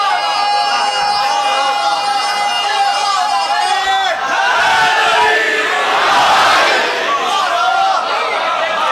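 A large crowd at a Chehlum Imam Hussain majlis at an imambargah raises loud religious slogans together, a dense roaring chant that swells toward the end and stays close and continuous.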